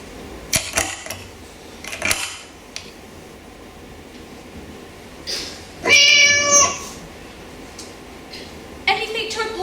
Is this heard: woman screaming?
no